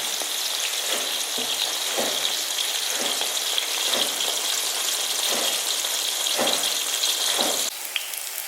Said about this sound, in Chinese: 把洋葱也倒进去开始炸